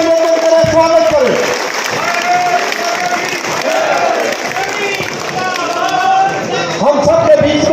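A crowd in Karnal applauds and cheers to welcome the newly appointed Haryana BJP state president Nayab Singh Saini, loud sustained clapping and shouts filling the space while an amplified voice speaks over it.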